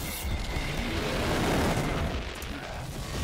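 An explosion in the video game Wolfenstein: The New Colossus: a steady, dense rumbling roar that lasts the whole stretch, with no talk over it.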